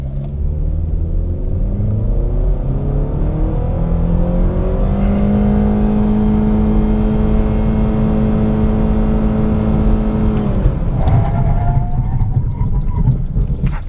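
A 2017 Honda Civic EXL 2.0 accelerates hard from a launch, its engine droning up steadily in pitch for about ten seconds, then briefly dropping as it shifts and climbs again, heard loud from inside the cabin.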